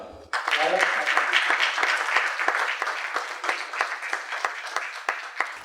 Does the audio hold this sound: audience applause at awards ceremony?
yes